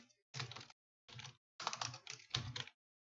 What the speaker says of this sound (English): Something is wrong with my typing today probably.